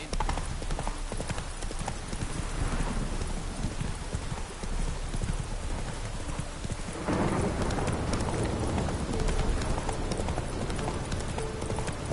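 Rain falls in the Witcher III: The Wild Hunt game world, a steady hiss under horse hooves clip-clopping and distant thunder, with a brief voice and a surge of heavier downpour partway through.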